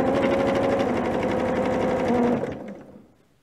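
A sewing machine stitching through already quilted fabric runs in a fast, steady rattle for over two seconds, then slows and stops, close up with no talk.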